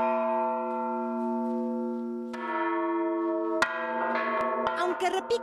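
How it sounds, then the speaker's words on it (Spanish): Church bells in Tizapán, Zapualpan de Ángeles, Hidalgo, Mexico, a town known for casting bells, peal loudly with long ringing tones, as fresh strikes pile up into a dense, clanging chorus toward the end. "Aunque repiquen sus campanas sonoras y afinadas"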